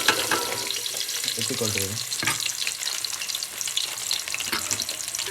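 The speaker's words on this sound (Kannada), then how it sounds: "ಈಗ ಮತ್ತೆ ಆನಿಯನ್ನ ಫ್ರೈ ಮಾಡಬೇಕು" Onions frying in a mix of oil and ghee with cumin seeds, a steady close sizzle and crackle running throughout, broken by a few stirring scrapes, with a brief voice speaking over it.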